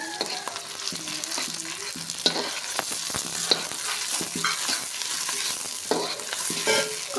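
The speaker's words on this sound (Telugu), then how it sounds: "పచ్చిమిరపకాయలు వేగిన తర్వాత ఇందులోకి మనం ఈ విధంగా కట్ చేసుకున్న ఉల్లిపాయలు వేసి వేపుకోవాలండి" Green chillies and sliced onions fry in hot oil over a wood-fired stove for chicken curry, a loud, close crackling sizzle punctuated by repeated spatula scrapes and stirring knocks.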